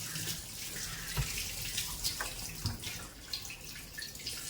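Water poured and running while a kitchen chimney filter is washed, a steady close splashing wash with a few small knocks and drips, no talking.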